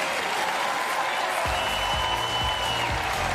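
An arena crowd applauds at a Paralympic goalball match in Paris, a dense, steady clapping wash with a few low thumps underneath, sustained throughout and fairly loud.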